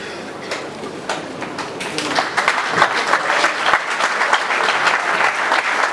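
Steady crowd applause welcoming AFDC party members and allies at a political gathering, a dense clatter of clapping that swells and holds at full strength, with voices mixed in underneath.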